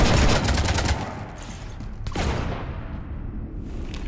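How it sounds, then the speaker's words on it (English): Video game gunfire from Mass Effect 3 rakes a ship: a loud, close burst of rapid shots up front, then a sharp crack and scattered fainter fire trailing off. "You want to stop shooting up my ship?"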